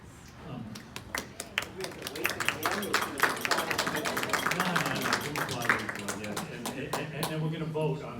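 Audience clapping welcomes a panelist at a design industry panel discussion, with dense overlapping claps mixed with voices and crowd noise sustained throughout.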